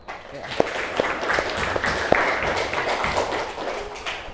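Scattered clapping from a small audience for a student group, light and uneven with a few sharp individual claps, and voices talking over it.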